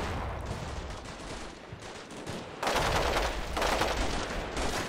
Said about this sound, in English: And a bit of PK fire there